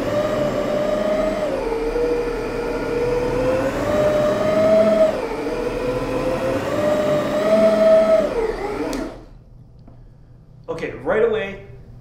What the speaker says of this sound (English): I can vacuum it up